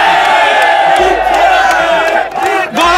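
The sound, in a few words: crowd cheering at beach games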